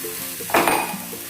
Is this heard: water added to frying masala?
yes